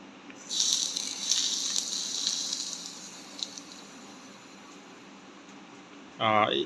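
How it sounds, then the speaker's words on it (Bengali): Hot oil poured over momo sauce sets off a sudden loud hiss that slowly fades over a few seconds, followed near the end by a short spoken voice. "আমরা এখানে গরম তেল দিচ্ছি"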